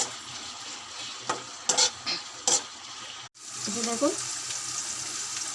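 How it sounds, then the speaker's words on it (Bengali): Ginger garlic paste sizzles in a hot pan while a spoon stirs it in scraping bursts, loud and close, with a brief word spoken partway through. "আদা রসুন বাটা দিয়ে দিছি, একটু লাড়ে ছেড়ে দেবো।"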